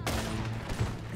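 Gunfire in the Western video game Red Dead Redemption during a chase out of a wanted zone, a sharp burst at the start trailing into a dense, continuous rumble of shots and game noise.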